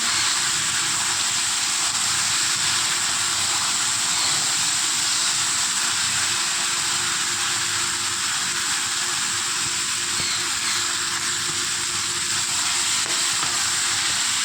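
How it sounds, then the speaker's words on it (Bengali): Country chicken meat sizzles and fries in a pan with a steady, loud hiss throughout. "মাংসটা আমি ঢেকে সুন্দর করে ফ্রাই করে নেব"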